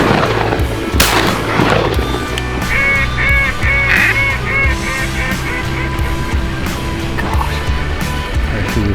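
Shotgun blasts ring out during a Colorado duck hunt, with a sharp close shot followed by more reports, while ducks quack and geese honk loudly around the hunters.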